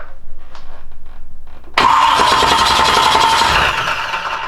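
Ford F150 prerunner engine turned over on its starter with no fuel or spark, a loud, steady cranking whir that begins abruptly after a quiet moment and runs for a few seconds without catching.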